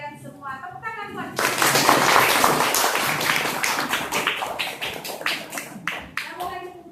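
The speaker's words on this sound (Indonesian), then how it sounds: "Tepuk tangan buat." Sixth-grade primary school pupils clap together in a classroom, a sudden burst of brisk clapping that swells and then thins into scattered claps, with talking before and after.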